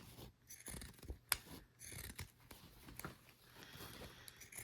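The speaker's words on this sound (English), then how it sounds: "Suggest using the pinking shears." Pinking shears snip through two thick layers of Minky fabric, giving a run of soft, close crunching cuts with scraping blade rubs, one sharper snip standing out near the middle, and no talking.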